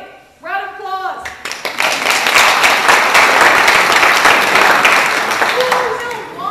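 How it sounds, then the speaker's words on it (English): An audience at a college planning seminar breaks into sustained, loud applause after a brief spoken line, the clapping swelling quickly and holding steady before tapering slightly. "Round of applause."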